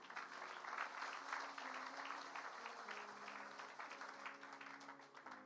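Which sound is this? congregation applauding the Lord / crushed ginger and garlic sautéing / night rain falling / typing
congregation applauding the Lord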